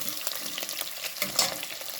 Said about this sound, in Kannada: ಮೊಟ್ಟೆಯನ್ನು ಈ ಎಣ್ಣೆಯಲ್ಲಿ ಸ್ವಲ್ಪ ಬಿಸಿ ಮಾಡುವ